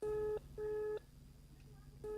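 Telephone keypad tones sound in a mobile payment advert: three clean, steady dialing beeps, each about a third of a second long, separated by short pauses, with no talking.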